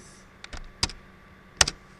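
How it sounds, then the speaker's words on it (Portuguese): Computer keyboard keys tapped in a few sparse, sharp clicks, close and fairly quiet against a still room. "comigo digitando no teclado"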